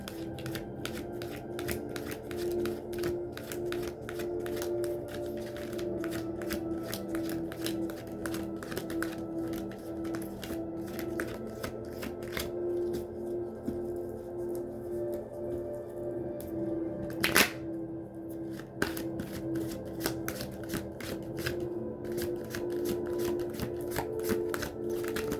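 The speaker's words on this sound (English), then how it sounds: "I'll shuffle one more time." Tarot cards being shuffled by hand before a reading: a long run of soft, rapid riffling and flapping card sounds, close and continuous, with brief pauses and a sharper snap partway through.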